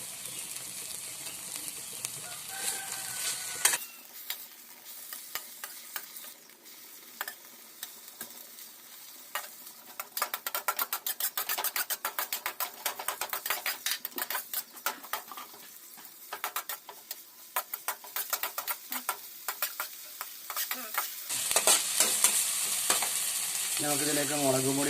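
Green chillies sizzle and crackle in hot oil in a pan while being stirred for macaroni masala, a steady loud frying hiss broken by scraping spoon strokes, with quieter stretches at the start and end.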